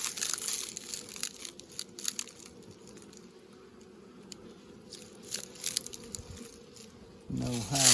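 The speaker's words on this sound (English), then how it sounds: "Bees look healthy. Good packed box" Honey bees in a hive during a winter check, a low continuous buzzing hum throughout with crinkling handling noises, ending in a louder burst near the end.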